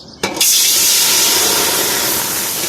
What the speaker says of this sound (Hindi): 1 लीटर दूध डालेंगे